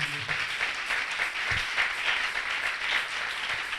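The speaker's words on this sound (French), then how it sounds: "On acclame le Seigneur Jésus-Christ." A church congregation applauding during a service, a dense, steady burst of many hands clapping together with faint voices mixed underneath.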